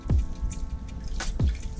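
Water from a small cascade in a crab paludarium drips and plops in a few distinct close drops over a soft trickling background.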